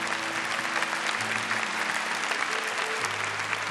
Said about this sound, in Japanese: 歓迎の拍手を送りましょう。